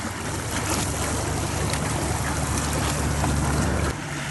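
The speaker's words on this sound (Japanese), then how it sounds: "船音がまだ聞こえます。" A tour boat engine off Oshima island in Imabari, heard from the shore in spring, gives a steady low drone. It is buried in constant wind and wave noise throughout.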